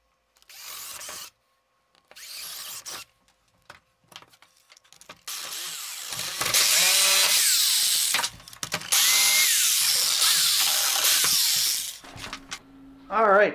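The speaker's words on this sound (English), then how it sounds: "Alright, so we've rough cut the hole with the jigsaw." A jigsaw cuts a rough hole in wood for a DIY tool chest and miter bench, starting in short bursts, then buzzing loudly in long continuous runs up close, with pitch shifting as the blade cuts.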